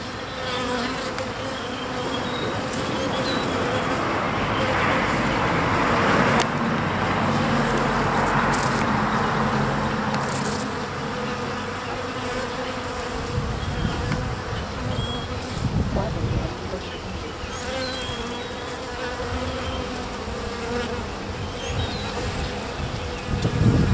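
A dense, steady drone of many honeybees buzzing close by inside a hive box holding a swarm with a queen, continuous and loud throughout, with occasional faint bumps.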